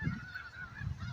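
Many snow geese honk together in a continuous, rough chorus at Hagerman National Wildlife Refuge, their calls blending into a steady clamor at moderate distance.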